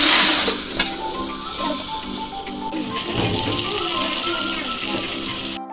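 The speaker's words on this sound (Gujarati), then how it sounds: "શાક વઘારી દીધું છે." Chopped vegetables dropped into hot oil for tempering in a home Gujarati kitchen sizzle steadily and loudly up close, a continuous bright hiss with faint clinks of utensils.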